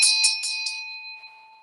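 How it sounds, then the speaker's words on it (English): A meditation bell struck several times in quick succession, bright metallic hits settling into a clear, sustained ring that slowly fades. "I'm going to ring the bell."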